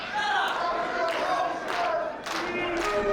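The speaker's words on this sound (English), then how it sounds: "The crowd already showing their allegiance, showing that they're firmly behind Corey Jackson and Ting Shi" Wrestling arena crowd at an NU Wrestling show roaring and cheering in support of Corey Jackson and Ting Shi, a dense, loud, sustained wash of voices with shouts rising and falling throughout.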